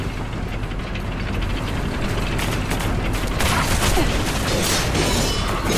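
Cannon bombarding a central control room in the video game Duet Night Abyss, a dense continuous rumble of rapid blasts and mechanical clatter that grows louder toward the end, with no talking.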